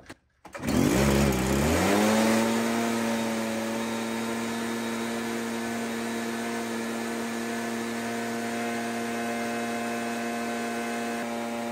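A small two-stroke engine pulls through a quick start, then holds steady at full throttle, a loud continuous buzzing drone with strong harmonics that runs unbroken to the end.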